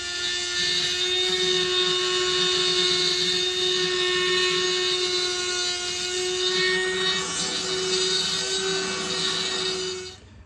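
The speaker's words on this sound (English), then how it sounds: "this little Dremel, I'm happy I went to the Dremel instead of an angle grinder" A small Dremel rotary tool carves a finger groove into the handle of a Vaughan carpenter's hatchet clamped in a vise, giving a loud, steady, high-pitched whine that holds for about ten seconds before cutting off.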